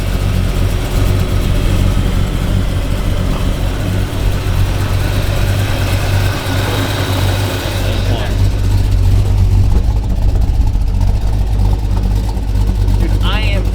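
A Camaro V8 idles loud and close with a lumpy, choppy lope that holds steady throughout, with cooling fans whirring alongside.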